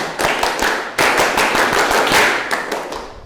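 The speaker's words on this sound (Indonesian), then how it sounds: "Biar lebih semangat, tepuk pramuka dulu." A classroom group claps out the Indonesian scout clap (tepuk pramuka) in unison, a loud burst of rhythmic hand claps in quick patterned bursts with a brief pause near the start.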